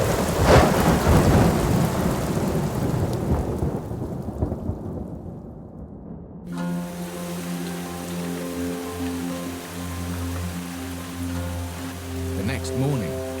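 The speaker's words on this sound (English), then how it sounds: "Richard can only hope the storm will abate" Heavy rain pours in the Amazon rainforest during a thunderstorm, with loud rolling thunder near the start, then a steady downpour that continues under a droning low hum in the second half.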